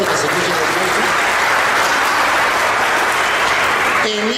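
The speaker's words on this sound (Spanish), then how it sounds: "Un aplauso pues para el hermano, fuerte que se escuche el aplauso" Audience applause in a church setting, a dense, loud wash of many hands clapping continuously, fading as a voice begins at the very end.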